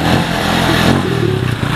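Motorcycle engine revving loudly and close, a steady rough roar that rises and falls over under two seconds, with no voices.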